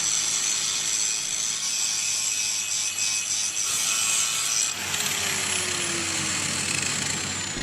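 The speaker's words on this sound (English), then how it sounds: "That way I'm not scarring this axle tube with the grinder." An angle grinder shaving welds off a junkyard axle tube, a steady, harsh high-pitched grinding whine that shifts in pitch as the disc bites the steel, loud and close, with no talk.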